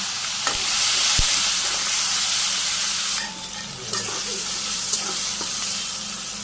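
Chicken and potatoes with onion, garlic, ginger, green chilli and spices sauté in a pan with a steady close-up sizzle, occasional stirring clicks and scrapes, and a brief dip in loudness midway.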